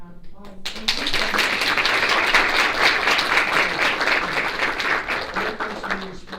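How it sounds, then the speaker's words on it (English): Sustained applause from the audience at the close of a student government general body meeting, a dense even patter of many hands clapping that swells after the first second and holds steady to the end. "we need a final round of applause"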